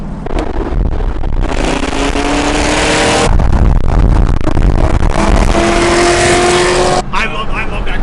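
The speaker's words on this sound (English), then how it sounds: "I love that car. I love the way that car sounds." Cadillac CTS-V and Ford Mustang Mach 1 engines roar loudly on a street cruise: repeated hard accelerations with rising gear pulls, brief shift breaks, and excited voices shouting over the close engine noise.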